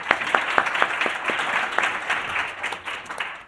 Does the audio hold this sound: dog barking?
no